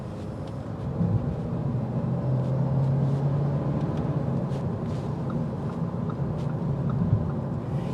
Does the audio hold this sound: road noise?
yes